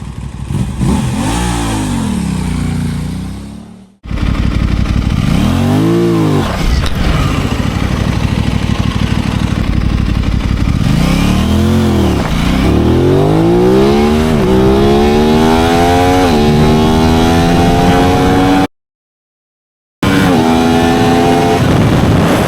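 An Aprilia RS 660 and a CFMOTO 675SR-R sport motorcycle run hard 0-100 km/h launches, the engines loud and close, revving up through several rising gear pulls with brief drops at each shift and a short silent gap.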